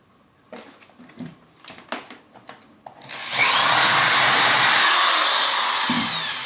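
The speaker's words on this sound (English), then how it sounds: "I'm going to take my drill" A few scattered knocks and taps, then a power drill whirs on loudly and runs steadily for several seconds, close by, widening a hole in a canister filter part.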